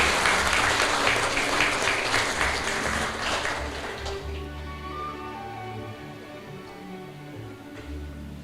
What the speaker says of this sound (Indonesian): Boleh kita beri tepuk tangan yang meriah rekan-rekan?